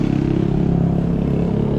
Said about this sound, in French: Alors, c'est la moto de survie,